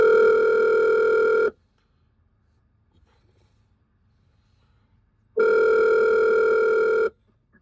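A telephone call rings over a speakerphone: two loud, steady electronic ring tones, each about a second and a half long, separated by several seconds of near silence, with no talking.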